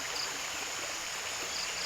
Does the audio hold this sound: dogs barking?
no